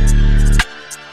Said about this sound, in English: And also the 808 comes in reverse.